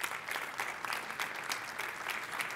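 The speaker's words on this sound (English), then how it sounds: "Please, a round of applause." An audience at a panel talk on the future of work and education claps in sustained, even applause, fairly faint and distant, with no voices over it.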